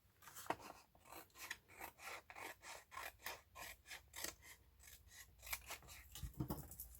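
Scissors cut through paper for a journal pocket in a steady run of short, close snips, each with a dry rasp, quiet and unaccompanied by voices.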